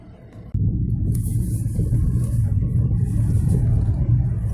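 Steady low engine rumble and road noise from a car being driven, a continuous drone that swells in after a quieter first half-second and holds throughout.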